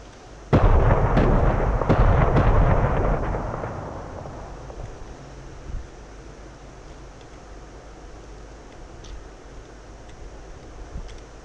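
GB-6 standoff weapons dropped from a JF-17 Thunder explode on ground targets, a sudden heavy boom followed by a long rumbling roar that slowly decays, then a faint second thud later.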